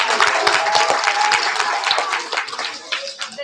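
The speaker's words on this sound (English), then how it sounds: "Please give them a round of applause." Applause at a kindergarten and first-grade school awards assembly, a lively patter of many hands clapping in a room that gradually thins out, with some voices mixed in.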